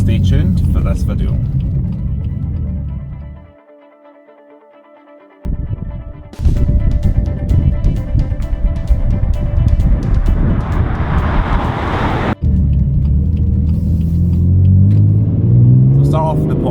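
A BMW M4 Competition's engine rumbles loudly and close, drops away briefly, then returns as a steady throaty drone with rising revs near the end; some voice may sit under it.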